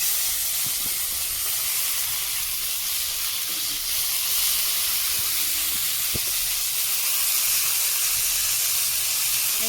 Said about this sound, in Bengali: মধ্যে একটু জল আছে বন্ধুরা শব্দ হচ্ছে